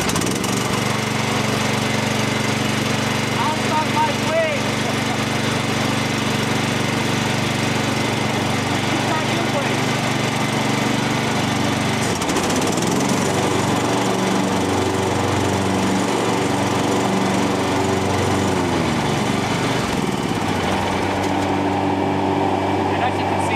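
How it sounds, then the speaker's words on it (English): An AL-KO petrol ride-on lawn mower engine runs steadily and loudly throughout, a continuous droning hum with a slight shift in pitch partway through, while people talk intermittently over it. "All right, I'll start my engine."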